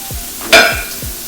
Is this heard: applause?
no